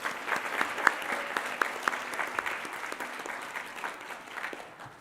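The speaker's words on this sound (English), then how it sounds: "Let's give Michael another round of applause." Sustained audience applause at an academic awards ceremony, many hands clapping steadily at moderate volume for the whole stretch, with a few sharper individual claps standing out and no voices over it.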